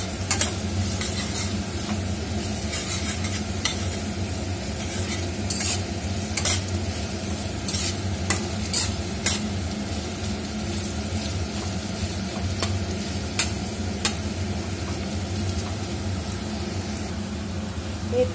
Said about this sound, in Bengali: দিয়ে আবার একটু ভালোভাবে নেড়ে নেব।